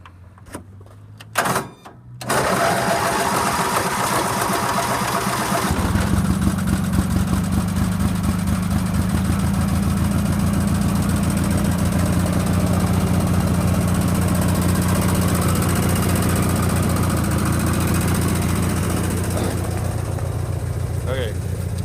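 A Sears GT18 garden tractor engine catches after a brief cranking burst and settles into a steady, loud idle that runs on without a break, sitting close to the listener.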